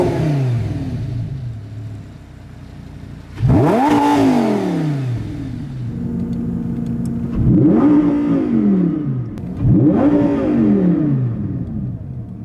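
A Lamborghini Gallardo Superleggera engine revs up hard through the gears, with three sharp rising pulls each cut off by an abrupt, hard-hitting shift, loud and close with no talking.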